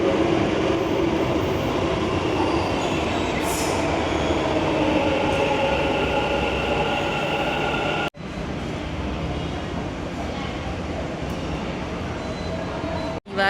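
Inside a moving train heading toward Kengeri metro station, a loud continuous rumble of wheels on rails fills the car, with a brief squeal early on and a sharp drop in noise near the end.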